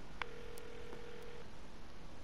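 A phone call on speakerphone in GTA V rings as a single steady electronic tone lasting just over a second, with a few short beeps around it and then quiet. Nobody talks.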